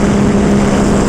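A Ducati Panigale V2 fitted with a Vandemon full exhaust and dB killers drones loudly at close range, a steady, dense engine roar lasting about a second without any speech.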